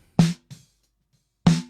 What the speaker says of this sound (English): And we got a mic on top of the snare drum.